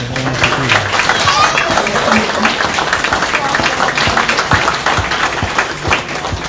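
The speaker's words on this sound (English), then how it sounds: "Let's hear a quick round of applause." Attendees at a township commissioners meeting applaud youth baseball majors champions, a loud steady burst of clapping from a modest room crowd with some voices mixed in.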